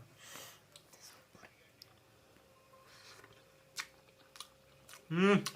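Someone eats omelet curry with gravy close to the mic, making soft, wet chewing and mouth sounds between faint whispers and breaths. A louder voice bursts in at the end.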